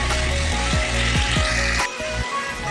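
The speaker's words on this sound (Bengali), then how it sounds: "এরপর দিয়ে দেবো হাফ কাপ কাঁচা লঙ্কা কুচি। এটাও কিন্তু ভালো করে ভেজে দেব।" Chopped green chillies frying with leftover rice in a home kitchen pan, a loud continuous sizzle with a few clattering stirs, easing slightly near the end.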